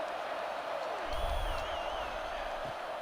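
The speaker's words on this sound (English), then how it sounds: "Crowd getting this defense whipped up on 3rd down" Stadium crowd in EA Sports College Football 26 roaring on a 3rd down during a dynasty game against Ole Miss, a steady broad wall of crowd noise with a swelling surge midway and a faint whistle-like tone over it.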